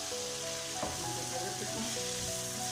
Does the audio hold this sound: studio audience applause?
no